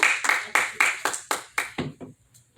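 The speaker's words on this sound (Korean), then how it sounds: "한번 크게 박수 한번 하겠습니다" A church congregation claps for a member during a Korean worship service: about eight sharp, evenly spaced claps, close and fairly loud, that thin out and fade toward the end.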